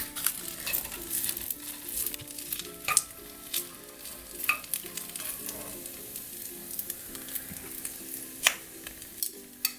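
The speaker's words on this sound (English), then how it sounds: "Now it's starting to sizzle a little bit." Food fries and sizzles steadily in a hot pan while a noodle dish is being cooked, with a constant crackle broken by sharp stirring and utensil clinks throughout.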